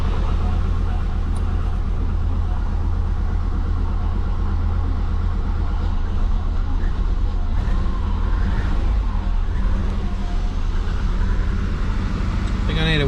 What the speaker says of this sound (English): I really just want to drive this car around.